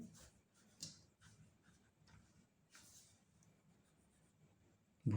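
A pen scratching across paper during a math lesson, soft intermittent strokes, faint and close, with no speech over it.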